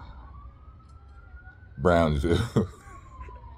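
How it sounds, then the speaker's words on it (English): A single emergency siren wails steadily in the distance on a Brownsville street, a thin sustained tone running underneath while someone speaks briefly in the middle. "Sirens."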